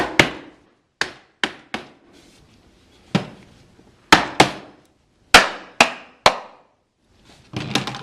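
Nails are hammered into a wooden beehive body. About a dozen sharp, close hammer blows ring out in irregular clusters with short pauses between them, and each strike decays quickly. No one speaks.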